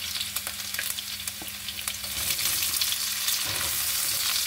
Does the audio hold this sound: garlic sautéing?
yes